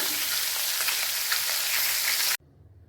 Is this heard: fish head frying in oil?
yes